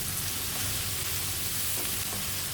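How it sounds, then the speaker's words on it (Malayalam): Mushrooms fry in a pan with a little salt for a mushroom pulao, giving a steady, even sizzle with no talking. "ഒന്നും കൂടെ ഒന്ന് ഫ്രൈ ആയി വരട്ടെ മഷ്റൂംസ്."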